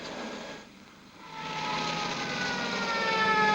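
Police car sirens wail, rising and sweeping in pitch over a broad rushing drone, growing louder and holding steady toward the end; no one speaks.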